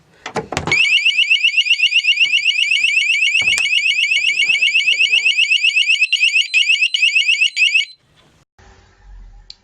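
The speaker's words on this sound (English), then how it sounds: "which when pressed it will set the alarm off instantly" A shed alarm: a loud, shrill electronic alarm blares continuously for several seconds after a few clicks, then cuts off, leaving quiet rustling.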